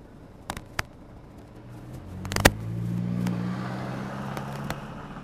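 A Skoda Superb II Combi Elegance reverses under Park Assist self-parking, giving a low, steady engine hum that rises gently, with a few sharp clicks and taps over it.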